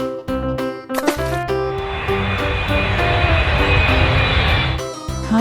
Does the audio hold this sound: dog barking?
no